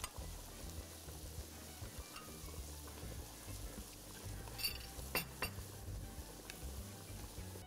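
Low, steady frying hiss of garlic sizzling in hot fat over jameed, with a few faint clinks of a pan or utensil partway through, heard quietly with no talk.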